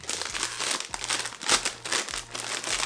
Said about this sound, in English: Okay, so they come in a foil bag.